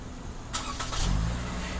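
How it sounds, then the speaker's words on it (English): A push-to-start Toyota Camry is started by remote start. The starter whirs briefly and the engine catches into a steady low idle, heard close and fairly quiet with no talk. "we're going to start the vehicle using 3 press. This will trigger remote starting."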